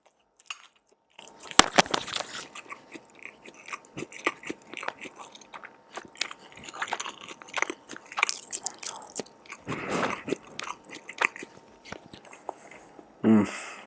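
Someone eating Filipino chicken adobo up close, with irregular wet bites, chewing and soft crunches spread over several seconds, intimate and fairly quiet.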